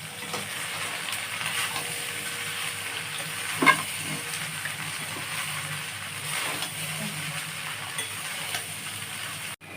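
Cooked rice is stir-fried with bay leaves in a pan for veg fried rice. There is a steady moderate sizzle with scraping stirs and a sharp utensil clink partway through, and no speech.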